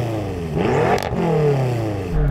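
A BMW M5 engine revs sharply during a sound check at a drag race, its exhaust note rising and falling in quick pulses, loud and close with no talking.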